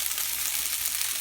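Scrapple frying in a dry slick pan, giving a steady, close hiss of sizzling with no talk.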